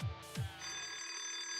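A telephone rings in the video game Twisted Wonderland, giving two quick bright bell strikes and then a sustained shimmering ring that hangs on, faint and alone.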